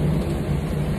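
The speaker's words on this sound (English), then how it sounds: "I should stop making that noise and let you just hear the thunder." A deep, continuous rumble of thunder with a hiss like rain over it, steady and fairly loud.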